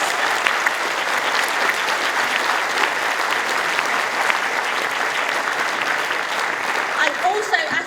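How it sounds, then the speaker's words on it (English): A rally audience at a socialist conference applauds the venue staff, sustained dense clapping from a large indoor crowd that holds at an even level for several seconds. "We should give them a round of applause."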